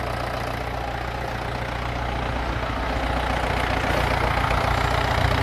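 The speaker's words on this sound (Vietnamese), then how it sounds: "phần động cơ bên trong của nó đây các bạn, cách nghe tiếng, nghe êm cực luôn ấy" A Yanmar FX305 tractor engine idling with its cover open, a loud, steady, close rumble that holds even throughout.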